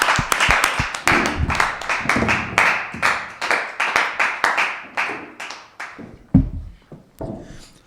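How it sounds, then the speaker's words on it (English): Scattered applause from a small audience at a college commitment announcement, separate claps standing out at first, then thinning and trailing off into a few last isolated claps. "Applause."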